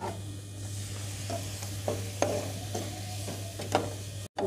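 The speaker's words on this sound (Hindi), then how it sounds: "इस तरह से इसको थोड़ी थोड़ी देर के बाद चलाते जाते हैं और दूध डालते जाएंगे।" Bread and coconut halwa stirred in a pan as milk is added, faint soft sizzling with periodic scraping strokes of a spoon over a steady low hum, no speech.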